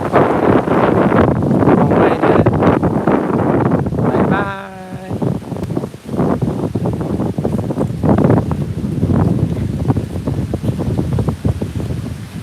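Strong wind blusters across the microphone beside a river, a loud continuous roar that surges and dips, broken briefly by a short bleating or whining call partway through.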